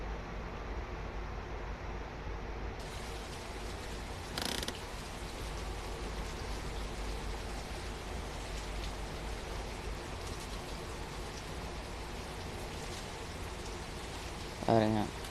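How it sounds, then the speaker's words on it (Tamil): Steady rain hisses continuously over a bus driving in Bus Simulator India, with a brief mechanical clatter near the end and someone talking over it. "மழை பெஞ்சிச்சினாலே வண்டி ஓட்டுறதே கொஞ்சம் இதாகவே இருக்குங்க கேமில்."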